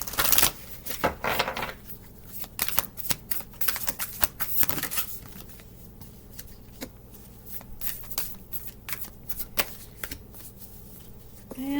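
A deck of Urban Tarot cards is shuffled up close in repeated riffling, flicking bursts and sharp snaps, with quieter handling between them.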